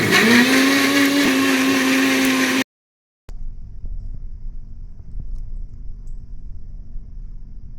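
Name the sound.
mixer grinder blending juice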